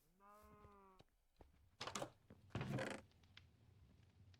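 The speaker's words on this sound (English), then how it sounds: "Gray sheep and a white sheep." A sheep bleats in the Minecraft video game, a short harmonic bleat near the start, followed by louder rustling and scuffling bursts of game sounds.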